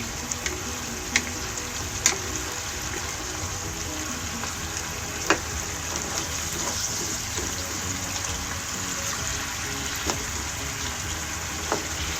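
White sugar caramelizes to golden brown in a pan near king crab, giving a continuous bubbling sizzle with sharp pops and spatters scattered throughout, close and steady, with no voices.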